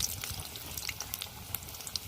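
Potatoes go into hot oil in a kadai for chicken biryani, giving a faint, steady frying hiss dotted with small pops and spits.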